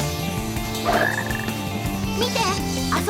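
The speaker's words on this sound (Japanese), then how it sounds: "この森には雨を降らすカエルがいるんだって。" Frogs croak in a forest stage of the video game Sonic Heroes, with several warbling croaks rising over steady background music.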